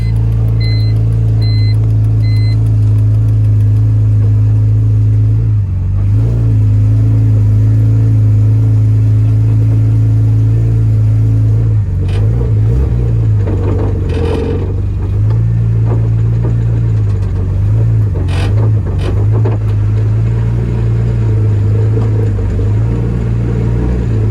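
A project car drives steadily with a loud, low engine drone that rises and falls slightly as it shifts and revs, heard up close and alone for the full stretch.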